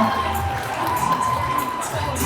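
Crowd applause and cheering at a Thai film gala as a producer is welcomed: a continuous roar of clapping mixed with excited shouts and whoops, loud and close, sustained without a break.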